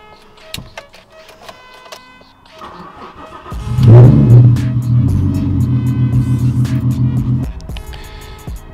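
A Toyota Supra MK4 engine cranks and starts, briefly flaring in revs before settling into a loud, close, steady idle rumble that then drops away, with faint background sounds.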